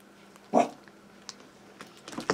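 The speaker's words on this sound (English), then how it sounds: "My doggies are being annoying in the background." Pet dogs somewhere in a house give a sharp yip followed by scattered faint whines and small whimpering sounds, quiet and in the background.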